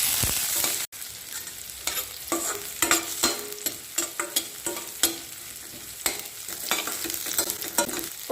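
Garlic and green chili frying in hot coconut oil with mustard seeds and cumin, stirred in a pan: a steady close sizzle broken by repeated sharp scraping stirs, with no voices.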